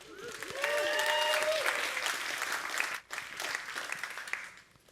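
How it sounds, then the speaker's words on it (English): Audience applause at a business presentation, a lively crowd clapping loudly with cheers and whoops over it, briefly dipping before the clapping carries on and tails off. "Let's get another applause for Outbound"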